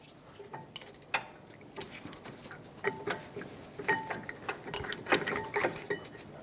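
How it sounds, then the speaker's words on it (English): Rear brake caliper slide pins on a Dodge Durango are pushed and pulled out, giving a series of close, irregular metallic clicks, scrapes and rattles. "You can push the slide pin right through. Finish removing the top one."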